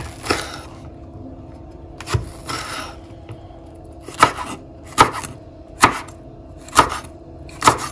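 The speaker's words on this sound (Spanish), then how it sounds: "Vamos a picar el chile." A knife chopping chili pepper on a board, sharp isolated thumps spaced roughly every second, close and fairly loud with quiet pauses between.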